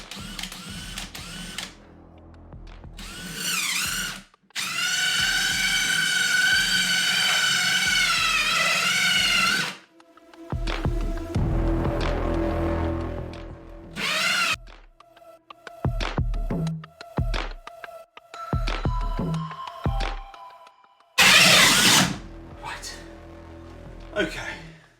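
A DeWALT power drill takes screws out of a kitchen extractor in several separate whirring bursts, some long and some short, with ratcheting clicks and handling knocks between them. The bursts are loud and close.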